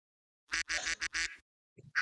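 A person vocally imitates a goose honk with several short, nasal honking bursts in quick succession, then a lower grunt and one more honk, close to the microphone with no other sound around.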